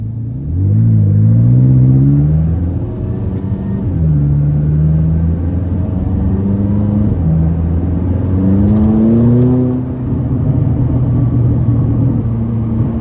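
A 664 hp tuned 2017 McLaren 570S sports car accelerates hard, its engine rising in pitch through several gear pulls with brief dips between shifts, loud and close from the cabin over a constant road rumble.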